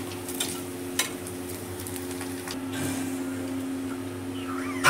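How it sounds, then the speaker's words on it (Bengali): Kangra fish sizzles in hot oil while frying, a quiet, continuous crackle and hiss with a faint steady hum and a few light clinks of utensils. "আরও যে মাছগুলো ছিল সেগুলো আমি তেলে অল্প অল্প করে ছেড়ে ভেজে দেবো"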